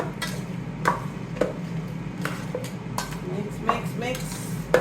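Cooked chicken being stirred with barbecue sauce in a bowl, repeated clinks and scrapes of a utensil against the bowl at an irregular pace, close and moderately loud over a low kitchen hum.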